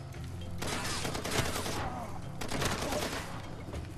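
Rapid gunfire from the Far Cry 2 video game, with dense volleys of shots cracking in two heavy bursts and a brief lull between them, loud and close throughout with no talk.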